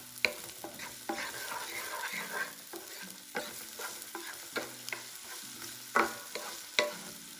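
Vegetables sizzle steadily in a hot pan on a home stove while a utensil stirs them, making repeated scraping knocks against the pan. The sound is close and fairly quiet, with no talking.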